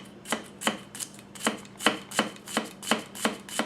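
A Masazumi 240mm gyuto knife chops food on a board in a steady rhythm of about nine crisp, evenly spaced strikes, close and clear with no talking.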